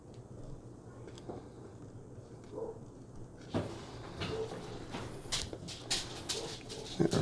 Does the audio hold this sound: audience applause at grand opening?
no